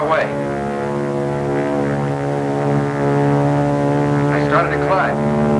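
A distant propeller airplane drones steadily in flight, a continuous engine hum with strong harmonic tones that holds for several seconds; faint voices seem to sound underneath near the end.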